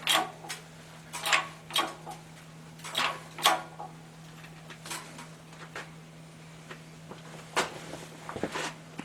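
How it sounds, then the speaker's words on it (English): A hydraulic jack is pumped by hand to press copper in a metal stamping die in a home shop, giving a series of short creaking, clicking strokes at an uneven rhythm, close and fairly quiet over a low hum. "So just a few pumps on the jack"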